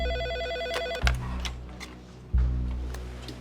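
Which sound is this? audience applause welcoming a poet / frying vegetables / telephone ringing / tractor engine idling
telephone ringing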